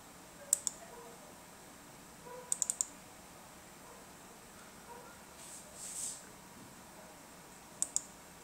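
Sparse, sharp clicks from the touchpad or keys of a mini HP notebook laptop come in small clusters against a faint background hiss, heard close up and quiet.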